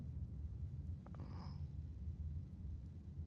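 Low, steady purring from a fluffed-up house cat rumbles quietly and close throughout, with a brief breathy hiss-like puff near the middle; no speech.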